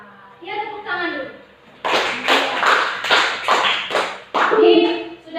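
Children's voices in a classroom give way to a burst of rhythmic group clapping, with talk resuming before a second round of claps.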